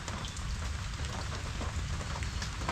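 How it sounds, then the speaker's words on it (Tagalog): Steady rainfall at a farm, dense patter of raindrops on surfaces forming a continuous, fairly soft hiss with scattered individual drops. "narinig mo yung patak ng ulan"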